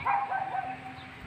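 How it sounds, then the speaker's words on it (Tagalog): Dogs bark and yip a few times at a moderate distance near an outdoor swimming spot in nature, brief and somewhat faint over a low background hum. "Okay, daming aso naman."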